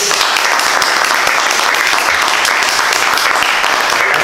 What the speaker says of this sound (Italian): Un applauso anche all'assessore.